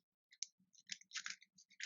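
A deck of Magic cards is shuffled, a quick run of soft, close clicks and riffles in irregular bursts against near silence.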